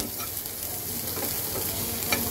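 Shrimp fry in a little oil while being stirred in a pan, giving a steady, even sizzle with soft scraping strokes. It is fairly quiet and continuous, with no talking.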